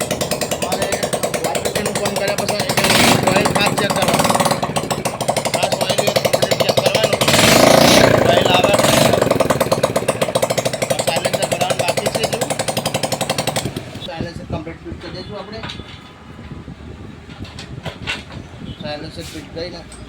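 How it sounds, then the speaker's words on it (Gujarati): A motorbike engine, worked on during a valve and piston repair, runs loud with a rapid, rattling idle for about fourteen seconds, then drops off, leaving quieter clicks and a lower mechanical hum. "હવે બાઇક ચાલુ કરીશું આપણે ચાલુ થઈ ગઈ છે"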